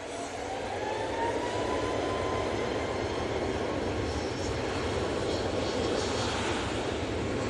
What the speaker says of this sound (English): Easyjet from Geneva just come in, A320 Neo